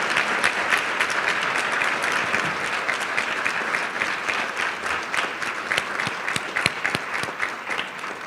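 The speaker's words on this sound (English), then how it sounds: "please join me in one last round of applause for all of these outstanding young people" At a student award ceremony, an audience gives sustained, dense applause that fills the hall evenly for several seconds, with a few sharper individual claps near the end.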